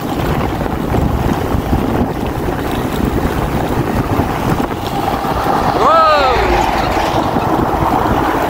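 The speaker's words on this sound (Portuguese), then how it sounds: "Vento na cara." Steady rushing wind buffets the microphone of a bicycle speeding down a hill on a road shoulder in rural Tocantins, Brazil, loud and continuous, with a brief chirping call near the end.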